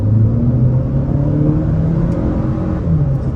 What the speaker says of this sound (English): We'll try an acceleration out off the line